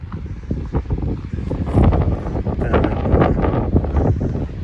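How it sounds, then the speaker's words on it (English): Strong wind blowing across a hilltop on a long-distance hiking trail in Northern California, a loud continuous roar with gusty swells buffeting the microphone. "it's nice to feel that wind"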